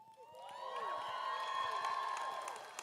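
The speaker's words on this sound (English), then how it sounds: "I told you there'd be a lot of clapping and celebration." Audience at a university nursing RN to BSN graduation pinning ceremony, cheering and whooping with scattered clapping, a lively crowd roar rising and holding steady.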